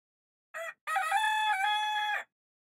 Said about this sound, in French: Le coq a beau s'époumoner